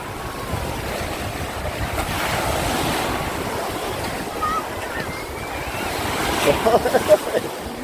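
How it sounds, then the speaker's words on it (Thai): Strong surf rolls in at Hat Nam Sai beach in Sattahip, with broad continuous wave wash mixed with wind noise across the clip, growing louder and choppier near the end. "โอ้โหคลื่นแรงมาก"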